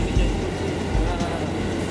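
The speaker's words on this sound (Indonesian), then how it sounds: "Kereta api terus bergerak maju" A passenger train rolls steadily along with a continuous loud rumble and low mechanical roar, close and uninterrupted, no voices heard.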